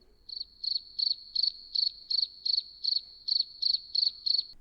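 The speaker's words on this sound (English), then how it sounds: "Crickets should be in the background when they say Calgary." Crickets chirping as a sound effect, twelve evenly spaced pulsed trills in a steady rhythm, clear and alone against a quiet background.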